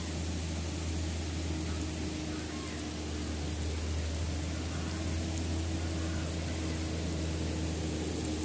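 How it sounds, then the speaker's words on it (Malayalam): Heavy rain pours steadily at a roadside bypass construction site on a highway, a dense continuous hiss with a low steady hum underneath, unbroken from start to finish. "നല്ല മഴ പെയ്തു നമ്മൾ തൽക്കാലം ഇവിടെ കയറിയിരിക്കുകയാണ്"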